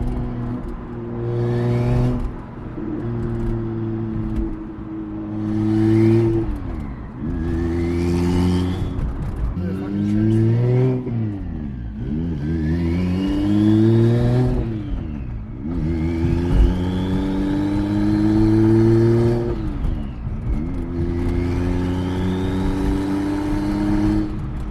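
BMW 335i single-turbo with a twin-disk clutch revving hard through repeated rising and falling sweeps, with blipped downshifts between runs, loud and close with no talking.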